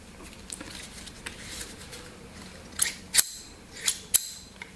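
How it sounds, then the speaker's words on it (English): Several sharp, close metallic snips from small spring-loaded thread snips, spaced irregularly and growing more frequent toward the end, over a quiet background. "thread snips you can use to cut little thread ends really quickly"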